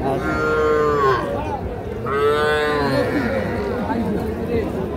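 A young Sahiwal bull calf moos twice at the Ambari cattle market, two long drawn-out calls close by, with people talking and market chatter continuing underneath.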